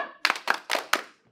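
Rhythmic group stomps or claps at a fraternity neophyte presentation, five sharp, evenly spaced hits in a brisk beat, close and distinct with quiet gaps between them.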